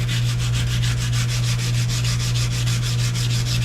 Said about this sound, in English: And I literally hand sanded the edges, front and back.